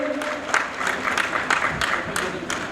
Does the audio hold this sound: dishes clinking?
no